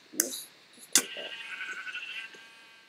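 Sheep bleating in the Minecraft video game, two short bright bleats close together near the start followed by a longer wavering one under faint background game sounds.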